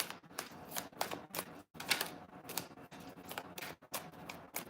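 A deck of tarot cards is shuffled close up in quick, crisp bursts of flicking and riffling with short pauses between them.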